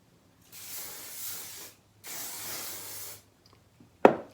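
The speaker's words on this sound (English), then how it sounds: "I give it a light spray" Hairspray hisses out in two steady bursts of about a second each, close by, followed by a sharp click.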